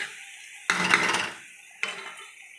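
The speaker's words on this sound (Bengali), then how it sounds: "সব কিছু দিয়ে এবার ভালো করে আমি মশলাগুলো কষে নেব অনেকক্ষণ ধরে।" Spice masala being stirred and fried in a pan for an egg and potato curry, heard as two bursts of clattering metal scraping, one longer then a shorter one, with a soft sizzle between them.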